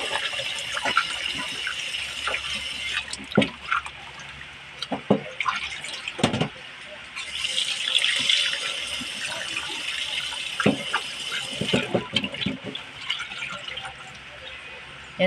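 Fish is rinsed under a running kitchen tap, a continuous close splash of water with irregular clatters and drips as the pieces are handled, swelling louder midway.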